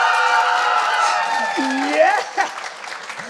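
High school students at a rally cheer and shout together in a loud burst of crowd noise and applause, with a single voice calling out over the din before it fades.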